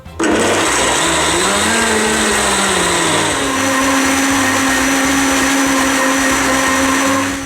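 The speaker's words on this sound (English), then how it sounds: "we're going to blend this for about, say, 2 minutes, preferably, say, 3 minutes" A blender runs on soaked soybeans and water to make soy milk, a loud and steady whir that settles to a lower pitch after a few seconds, with no voices.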